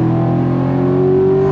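The engine of a 2019 Chevy Corvette Grand Sport with an 8-speed automatic holds a loud, steady tone close by under acceleration, climbing slightly in pitch over a second and a half.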